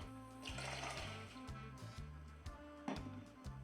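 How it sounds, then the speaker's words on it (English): Peas for Jamaican rice and peas are tipped into a pot on the stove, giving a couple of short, close rattling pours over a steady low background hum. "I am going to add the peas"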